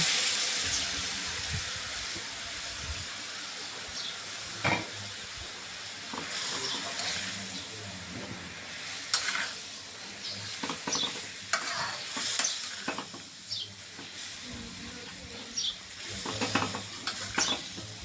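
Egg-marinated pork sizzles and crackles steadily in a hot pan, with occasional scraping stirs and sharp pops throughout, no talking.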